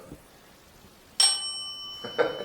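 A bell rings clearly in a quiet room of Edinburgh Manor during a ghost-hunting session, one bright sustained ding with a lingering tone, followed by a second, shorter strike a moment later.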